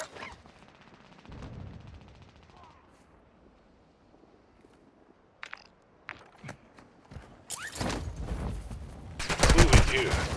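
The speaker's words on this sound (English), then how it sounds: "See, I'm getting shot at." Video game gunfire aimed at the player: scattered sharp shots and bursts, growing denser and louder toward the end, with faint speech in between.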